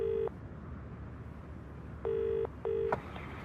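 A telephone number is dialled as touch-tone beeps: one short tone, a pause of nearly two seconds, then two more tones in quick succession over a faint background hiss.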